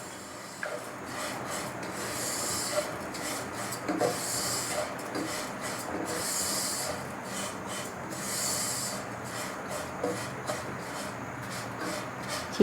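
Vermicelli is stirred and roasted with sugar in a pan while making kunafa on the stove, giving a steady, close scraping and rustling that runs throughout with small irregular knocks.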